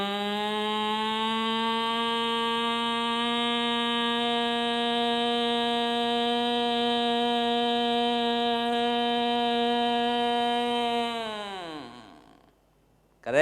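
A human voice imitates an ambulance siren, holding one steady, buzzy tone for about eleven seconds before the pitch sags and fades out, alone and fairly close.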